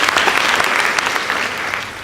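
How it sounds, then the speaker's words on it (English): A school debate audience claps for a competing team after the scores are announced: a full, bright round of applause with individual claps standing out, loud and sustained throughout without speech. "Kindly give them a round of applause."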